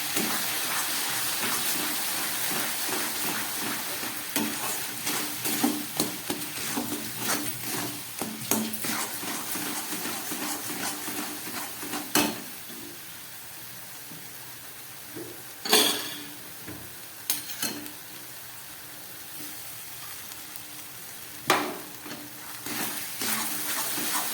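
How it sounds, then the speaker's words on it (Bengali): Jaggery and coconut filling fries in a pan for patishapta and puli pitha, a soft steady sizzle running throughout with occasional louder clinks and scrapes of stirring against the pan, no talking. "গুড় আর নারকেলটা অনেকটাই ভাজা হয়ে গেছে"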